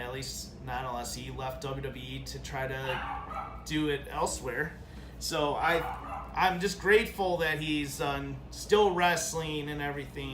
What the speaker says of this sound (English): if you hear the puppy barking